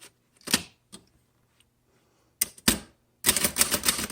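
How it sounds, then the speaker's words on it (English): A 1936 Remington Rand 5 manual typewriter being typed on, with a few sparse key strikes followed by a rapid burst of crisp clattering keystrokes, close and clear with no talking. "All right, we'll keep typing now."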